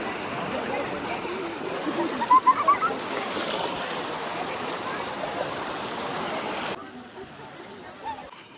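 River water rushes in a steady, full wash for most of the stretch, then drops to a softer, thinner flow near the end.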